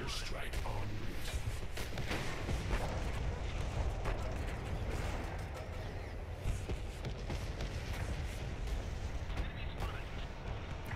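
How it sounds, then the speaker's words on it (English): Airstrike explosions in the video game Renegade-X, played on the Reservoir map, come as a dense, continuous roll of heavy booms and rumbling blasts, with voices faintly under the barrage. "Airstrike on route."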